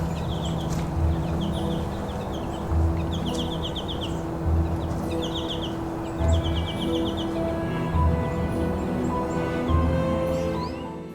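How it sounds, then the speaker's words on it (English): American goldfinches in winter give repeated bright, twittering call bursts at close range, several birds calling in quick clusters over a steady low hum. "These are the American goldfinch."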